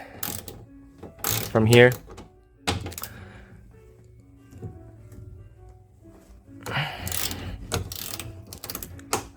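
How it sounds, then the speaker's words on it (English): A ratchet unbolts 10 mm bolts on a Honda CR-Z side mirror in bursts of rapid clicking, up close and loud, with a short pause between bursts and a few brief spoken words. "So yeah, these are 10 millimeter. And just unbolt it"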